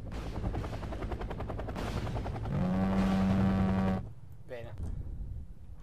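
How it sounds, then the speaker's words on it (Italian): A helicopter explodes amid a dense roar of battle in the strategy game Wargame Red Dragon, with continuous gunfire-like crackle and a loud sustained blast that cuts off abruptly, followed by someone speaking over quieter game sounds. "L'elicottero esplode."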